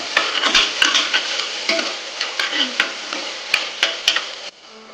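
Tomatoes sauté with ginger garlic paste in a pan, sizzling steadily up close while a spoon scrapes and clicks against the metal in quick irregular stirs.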